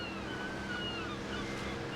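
Rough sea waves wash and churn in a steady, faint roar, with wind noise over the water and no voices.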